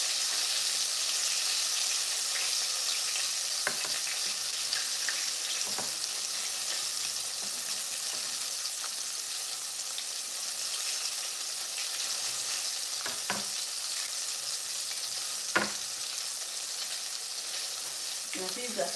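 Dumplings fry in a small pot with a constant bright sizzle and hiss, broken by occasional soft clicks and taps of stirring.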